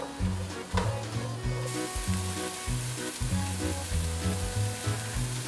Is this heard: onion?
yes